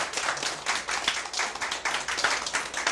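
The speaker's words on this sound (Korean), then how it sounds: "강의 시작하겠습니다 하면 박수 좀 이렇게 쳐주세요" An audience at a sales lecture claps to open the talk, producing a moderate, steady ripple of hand claps from a modest crowd, slightly distant, lasting a few seconds.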